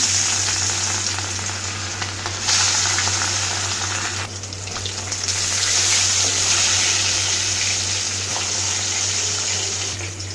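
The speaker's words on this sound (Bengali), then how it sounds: "মাছগুলো আমি হলুদ লবণ দিয়ে মাখিয়ে নিয়েছি। এখন চুলায় দিয়ে দিচ্ছি।" Fish coated in turmeric and salt frying in hot oil in a wok, a steady close sizzle with crackling spatter that swells and dips slightly throughout, no voices.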